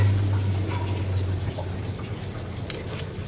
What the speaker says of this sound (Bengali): পেঁয়াজটা ভাজা হয়ে গেলে আমি এর মধ্যে দিয়ে দেব পানি